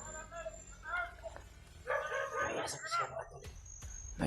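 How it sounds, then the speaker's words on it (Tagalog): Several dogs bark and yip at a distance, faint and intermittent, while people talk quietly nearby in low voices. "May mga aso silang dala mga tol."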